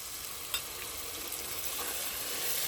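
Masala for a katla fish roast sizzles hard in a pan as water is added, a steady close hiss and crackle with small pops, with no talk.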